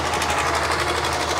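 A fishing trawler's engine runs steadily up close, a loud, dense rapid knocking drone with a fast even pulse and no pauses.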